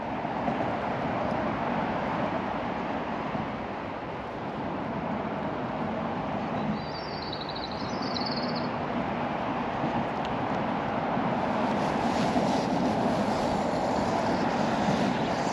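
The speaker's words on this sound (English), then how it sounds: "I'm sorry about the noise of the road" Steady broadband rumble of road traffic beside a river, continuous and fairly loud throughout, with passing vehicles swelling and fading and no talking.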